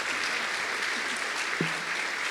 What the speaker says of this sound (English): let's give another round of applause for our great panelists.